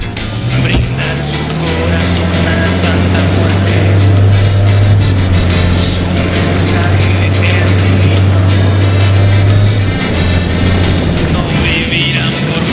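Steady loud car engine drone while driving in Ghost Recon Wildlands, a sustained low hum holding pitch for about ten seconds with game noise layered above.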